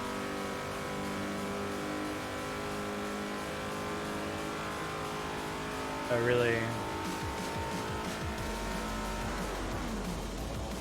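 Engine drone from the Forza Motorsport 4 race car holds steady through most of the clip, with a brief rising-and-falling pitch sweep as the car shifts gears, under a quiet voice.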